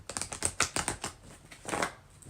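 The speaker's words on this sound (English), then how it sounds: "All right, let me shuffle." Tarot cards are shuffled by hand in a quick series of soft, crisp flicks and taps, followed by a brief rustle, faint and close with no talking.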